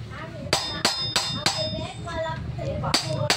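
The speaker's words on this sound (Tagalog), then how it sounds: "konting pukpok lang, tanggal ka agad guys" A hammer delivering sharp metallic taps to loosen a part on a Honda Click v3 scooter during a big disc install, about seven close strikes in an uneven rhythm, with a voice talking between them.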